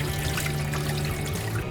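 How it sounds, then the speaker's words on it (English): Washing water poured off freshly washed butter (makkhan) while making desi ghee, a steady close splashing pour that runs without a break and without talk. "Now after you have washed it, just throw away all the water."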